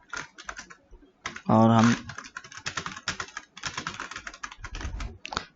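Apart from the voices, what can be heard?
typing code on a computer keyboard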